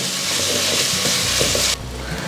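Tomato slices and curry leaves sizzle and crackle loudly in a hot pan while being stirred, for a mackerel fish curry; the steady frying hiss drops off abruptly near the end.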